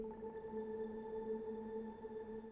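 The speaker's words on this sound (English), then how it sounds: "Here's a basic sine wave with and without delay and reverb." A quiet, steady sine wave drone with delay and reverb, layered harmonics and a soft, washed-out shimmer, sustained without pause.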